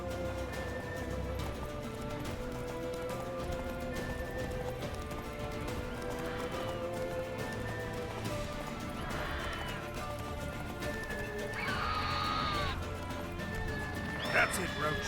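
Roach, the horse in the video game Witcher 3, gallops with steady clip-clop hoofbeats and lets out whinnies, while a person talks over the hooves and game sounds.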